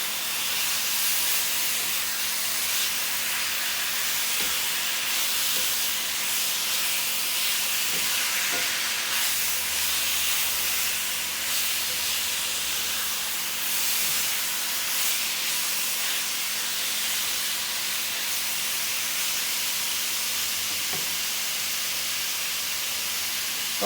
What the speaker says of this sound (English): all we want to do with our beef is just brown it